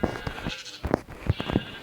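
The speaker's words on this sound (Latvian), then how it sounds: "Vēl viena aita!" Sheep bleat in a video game, several short, close bleats spaced irregularly over a steady background of game sound.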